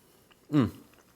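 A single short, close chew on a bite of grilled New York strip steak cooked medium, one soft moist crunch lasting about a quarter second between quiet pauses.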